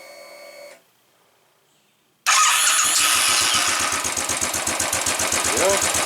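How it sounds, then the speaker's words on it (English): A Royal Enfield motorcycle fitted with a see-through tappet cover cranks over and fires into a loud, steady idle after a brief near-silent pause, its thumping pulses close and continuous. "Let's go ahead and start it up again"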